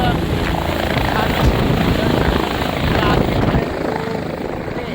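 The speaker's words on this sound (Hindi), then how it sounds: "हेलीकॉप्टर एक के बाद एक राउंड काटते हुए नजर आते हैं केदारनाथ धाम में" A helicopter circles at the crowded Kedarnath Dham helipad in the Himalayas, its loud rotor chop and engine roar close and continuous, with someone talking over it.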